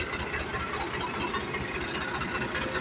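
A tractor engine running with a steady, loud, rough low rumble and continuous chugging vibration throughout, no voices; the tractor has a fully loaded trolley.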